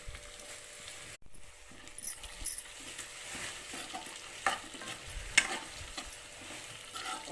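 Potato pieces and onions fry in hot oil with a steady, close sizzle, broken by occasional stirring scrapes and light clinks of a utensil against the pan.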